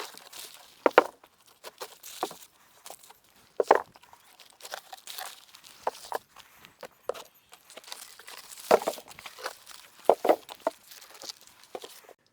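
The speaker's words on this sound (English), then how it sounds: "As I peel away the plastic bag, I notice that there are pieces that have fallen off." Plastic bag being peeled off freshly cast, still soft concrete garden blocks, giving scattered crinkling and tearing crackles with a few sharper crunchy bursts, close and fairly quiet, no talking.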